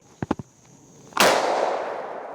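A Winchester SXP Marine Defender pump shotgun fires a single loud close blast that rings off into a long decaying tail, preceded by a few small clicks.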